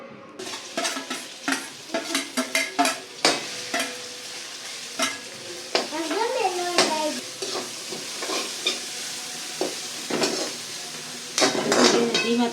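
Fresh turmeric is stirred and roasted in ghee in a pan over low heat, with a soft sizzle under repeated scraping and clinks of a spoon against the pan, close by and with no talking.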